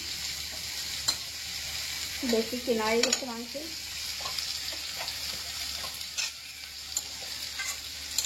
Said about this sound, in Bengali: এই পিঠের মাংস ভাজা হয়ে গেছে